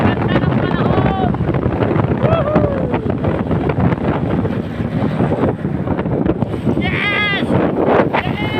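Strong wind buffets the microphone in a constant loud roar, with a few distant animal bleats and voices faintly cutting through.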